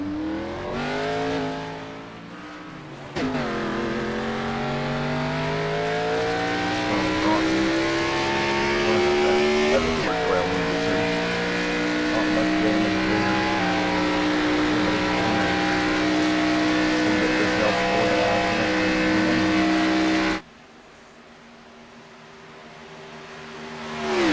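Race car engines roar in the iRacing sim at Daytona, a loud sustained multi-car drone with rising and falling revs and a sharp cut near the end, no talk over it.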